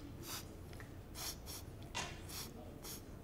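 A person imitates sniffing with a series of about six short, sharp nasal sniffs in an uneven rhythm, close and moderately loud against a quiet room, with no words spoken.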